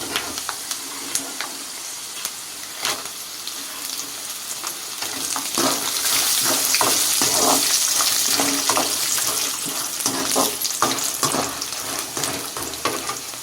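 Dried red chillies and peanuts frying in hot oil for a tamarind-leaf pulihora give a steady close sizzle with scattered crackles and pops, swelling louder midway as the chillies hit the pan, with no talking.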